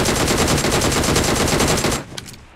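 DP-28 machine gun in BGMI letting off one long unbroken burst of rapid, loud shots that stops abruptly, followed by a brief fading tail and a single faint click.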